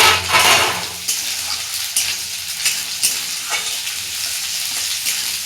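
Onions sizzle loudly in hot oil with bay leaf, with steady crackling and a spoon scraping and stirring the pan every second or so.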